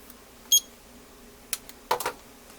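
A kitchen timer being set while pasta cooks in a pasta fagioli soup gives one short, clear electronic beep, followed by a few soft clicks and taps nearby.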